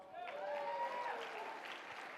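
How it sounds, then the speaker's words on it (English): Audience applause for Texas at CPAC 2019, a short burst of clapping mixed with whoops and raised voices from the crowd, steady and fairly loud throughout. "Yeah, y'all can give Texas a round of applause."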